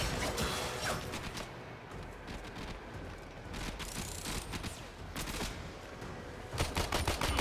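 Rapid bursts of gunfire from Warframe, a sci-fi shooter video game, crackle in dense, loud volleys with mechanical weapon clatter, pistol shots and a heavier burst near the end.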